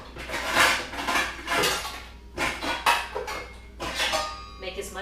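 A bowl is pulled out among stacked dishes, and ceramic pieces clatter and clink in several loud bursts with short gaps between them, the noise busy and close.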